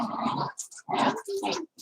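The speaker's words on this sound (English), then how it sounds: "These are my dogs." Two dogs, one tan and one black, bark and growl in short loud bursts close by, with brief pauses between the noisy outbursts.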